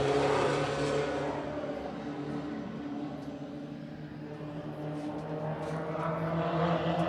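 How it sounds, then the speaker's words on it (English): 4-cylinder Pro Stock race cars roaring off at the start of a heat, a dense mid-distance engine drone that dips slightly and swells again as the pack accelerates. "We'll turn them loose here for heat number 1. Brackett's Market 4-cylinder Pro Stocks."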